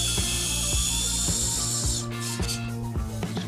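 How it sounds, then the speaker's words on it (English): A power driver sinks 4-inch fasteners to mount an aluminum stair post beneath a tread, with a steady motor whine running throughout, repeated ratcheting thumps, and the pitch dropping near the end as the screw seats. "And I'm going to use the recommended 4-inch fasteners."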